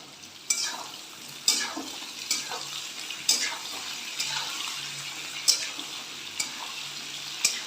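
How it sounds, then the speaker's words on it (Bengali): Jackfruit and potatoes frying in a pan, stirred with a utensil that gives sharp periodic scrapes and taps roughly every second over a steady moderate sizzle. "দেখুন আলুর সাথে এঁচড়টাও বেশ ভাজা ভাজা হয়ে এসছে"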